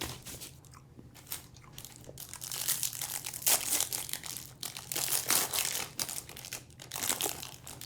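A trading card pack wrapper is ripped open up close, with bursts of crinkling and tearing foil that rise and fall over several seconds, fairly quiet and without talk.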